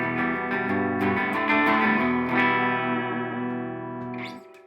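Clean electric guitar through a Supro Delta King 12 amp with its controls around noon and built-in spring reverb, ringing chords with quick picked accents and a sustained tail that fades out.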